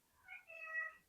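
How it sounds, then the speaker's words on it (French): A house cat gives a single drawn-out meow, rising and then falling, close and fairly clear over a quiet room with no talk. "C'est mon chat."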